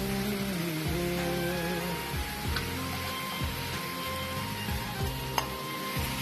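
Turmeric stirred into hot oil for a bottle gourd stir-fry, a continuous loud sizzle under repeated scraping strokes of a spatula against the pan, close up, no speech.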